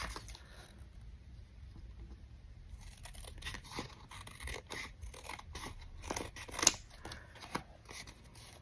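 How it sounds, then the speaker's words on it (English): Scissors snipping a paper collage offcut, a run of quiet crisp cuts that start after a brief lull and speed up into closely spaced snips, with a couple of sharper clicks near the end. "Grab my scissors."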